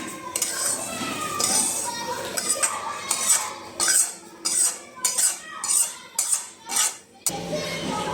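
A metal spoon scrapes and clinks against a pan and plate while roasted semolina for upma is scooped out, several distinct knocks in a row, close up, with faint voices in the background.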